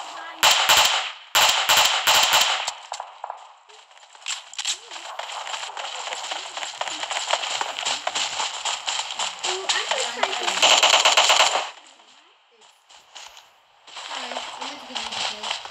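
Bursts of gunfire in PUBG Mobile crack out loudly in rapid volleys, then continue as quieter, sustained shooting with crackling, while players talk over the action.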